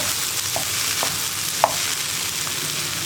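Banana stem and green gram thoran is stirred in a pan over a low flame, a steady soft sizzle with a few faint scrapes of the spoon, close and continuous without talking.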